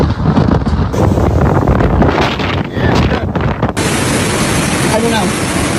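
Hurricane Melissa's winds batter Jamaica in a constant, loud roaring rush with buffeting microphone wind noise throughout, the tone shifting abruptly midway.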